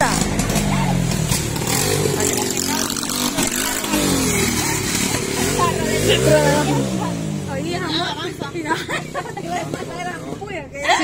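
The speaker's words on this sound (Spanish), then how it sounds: "Sí, truena. Esas son las motos de Salvador" Several motorcycles roar and rev loudly nearby on a street, their engine pitch rising and falling over about ten seconds, mixed with a hubbub of chattering voices.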